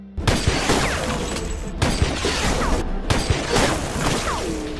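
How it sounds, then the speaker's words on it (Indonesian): Repeated gunfire in an action film, a gunman firing back in rapid bursts, with sharp cracks and crashing impacts over a dense, busy soundtrack. "Lalu dengan segera Simpson membalas tembakan Brandon bertubi-tubi"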